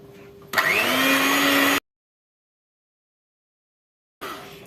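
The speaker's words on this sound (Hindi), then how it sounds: "तो अब हम इसके अंदर ऑयल ऐड कर देंगे और इसके साथ ही हम ऐड कर देंगे आइसिंग शुगर और इसको बीट करते हैं।" An electric beater whirs loudly as it mixes oil and icing sugar in a bowl, running for about a second, cutting to silence, then starting up again.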